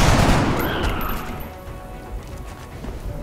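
Gunfire in XCOM: Enemy Unknown, a loud opening burst of rapid shots and impacts that decays into scattered fainter cracks and rumbling over the following seconds, with no voices.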